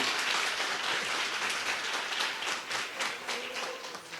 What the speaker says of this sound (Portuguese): Se é para aplaudir, vamos fazer, bonito